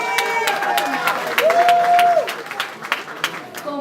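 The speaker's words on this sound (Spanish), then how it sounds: "Un aplauso para ellas, por favor." Audience applause for beauty pageant contestants after the Miss Fotogénica award, a steady wash of clapping with a sustained tone and a voice briefly over it.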